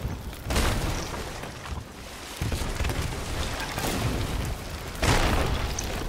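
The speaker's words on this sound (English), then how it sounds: "They threw one fire bomb." In the pirate video game Sea of Thieves, a fire bomb goes off with loud rumbling booms and roaring burst noise, strong surges recurring across several seconds with no talking.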